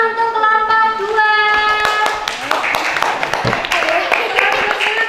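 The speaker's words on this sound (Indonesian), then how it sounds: "Tepuk tangan untuk kelompok 2." Schoolchildren clapping together in an elementary school classroom at SD Negeri 10 Wanarejan, a burst of quick, uneven hand claps rising after a brief voice and carrying on steadily near the listener.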